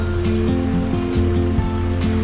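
Sea waves washing into a bay at night, a steady loud surf roar with rolling swells close by, with no voices.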